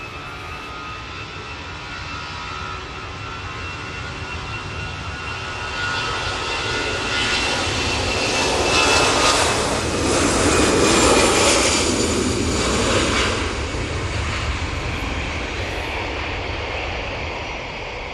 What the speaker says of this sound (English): I think this EasyJet's about to go.